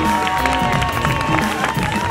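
Crowd applauding stand up paddle racers at the French championship in Cap d'Agde, dense clapping and cheering over a loud, continuous outdoor ambience with a faint tone running underneath.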